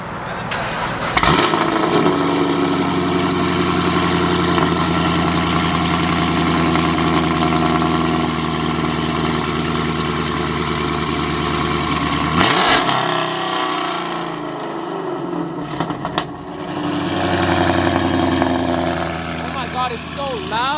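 A Lexus fitted with a new aftermarket exhaust starts up and idles loudly nearby, then cuts off and restarts, its deep steady rumble interrupted by brief revs.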